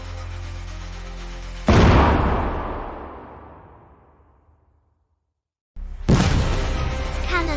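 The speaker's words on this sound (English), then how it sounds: "Cannon behind them volleyed and thundered." Cannon fire booms twice: a loud, deep blast rolls out into a long fading rumble that dies to silence, then a second heavy report strikes and sustains.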